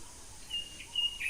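Birds in a quiet Noakhali village give a few faint, thin chirps and whistles over soft rural background hush, short and distant-sounding.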